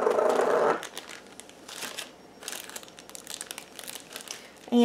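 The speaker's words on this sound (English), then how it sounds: "Now we can take our Ziploc baggie and open that up" A Ziploc plastic bag is opened, crinkling loudly at first, followed by quieter rustles and handling noises while yellow frosting is readied for piping onto cupcakes.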